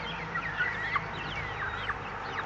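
Many hens in an outdoor flock clucking and chirping, a steady chorus of short overlapping calls at moderate distance with no voices.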